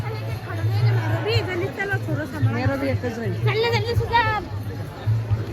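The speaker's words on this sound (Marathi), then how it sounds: "ते खूप गर्दी आहे आतमध्ये." Packed temple grounds at Bageshwar Dham fill with a continuous hubbub of crowd chatter and a low drone, with close voices talking over the background throng.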